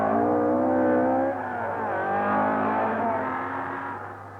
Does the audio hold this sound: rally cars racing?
yes